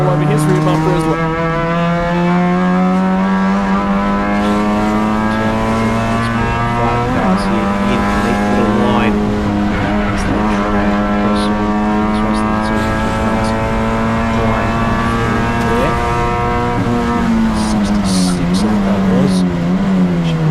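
Thailand Super ECO race cars, including a Honda Brio, battle closely at the Bangsaen Grand Prix street circuit, their engines droning and shifting pitch together in a loud, continuous buzzing whine, with a commentator talking over them.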